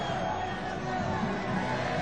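A crowd of Real Madrid fans at the Santiago Bernabeu stadium makes a dense continuous roar with scattered cheers, heard at a distance under a commentator's voice.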